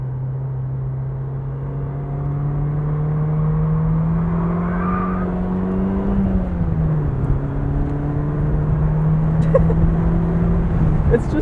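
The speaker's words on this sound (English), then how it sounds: "Part of the fun of going for a drive in a manual little convertible roadster is rowing some gears" A 1996 BMW Z3 1.9 manual roadster hums steadily on the road as it drives and works through its gears. The engine note holds a smooth drone that dips partway through as the pitch changes, with wind and road noise around it.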